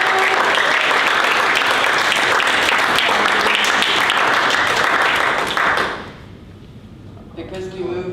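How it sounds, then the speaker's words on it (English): Loud, dense applause fills a Model UN council chamber after a resolution passes, sustained for nearly six seconds before cutting off abruptly, followed by quieter room noise and a voice. "Clapping is definitely in order."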